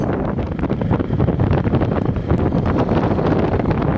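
Heavy wind buffets the microphone while sailing on a lake, a loud, constant rumbling roar with gusty fluctuations filling the whole clip.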